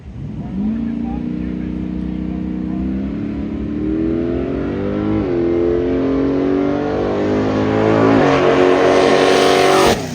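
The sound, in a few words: Chevy Nova drag racing car time trial run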